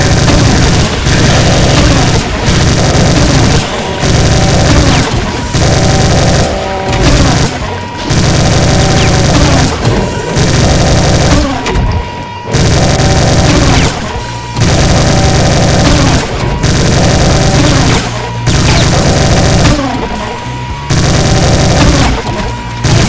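Chain gun firing in the Brutal DOOM 2 video game: loud, nearly continuous rapid gunfire with heavy booms and crashes, broken by a few very brief pauses across the whole stretch.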